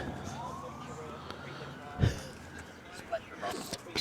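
Distant emergency vehicle sirens wail faintly over outdoor ambience at a bowls club in Burleigh Heads, Australia, with a few soft thumps and bumps close by.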